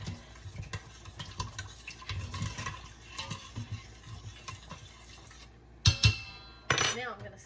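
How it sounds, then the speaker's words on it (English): Butter is stirred in a cooking pot for a roast, with a utensil scraping and clinking against the pot in an irregular rhythm. A couple of louder knocks come near the end. "I'm gonna put me a big old chunk in there. I'm gonna stir it up."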